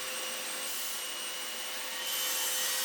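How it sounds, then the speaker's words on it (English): A power saw blade cutting a groove along the wooden rail of a chess board, a steady high whining and rasping that holds throughout and grows slightly louder near the end, with no talking. "Next, we adjust the saw blade and cut a line along the rail."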